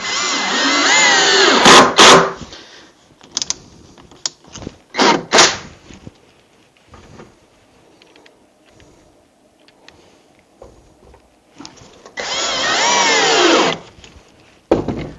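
A drill drives screws into a wooden bench, with loud whirring bursts at the start and again near the end, separated by scattered clicks, knocks and quieter handling noises.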